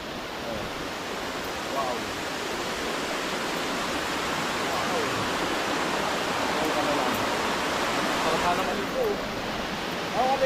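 Rushing water at the source of a waterfall, a steady broadband roar of flowing water running continuously and fairly loud, with no clear talk over it.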